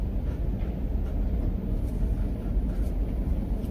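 A U-Haul truck driving slowly through a parking lot, with a loud, steady, low rumbling engine and road drone heard from inside the cab, continuous throughout with no talking.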